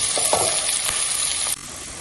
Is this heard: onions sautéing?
yes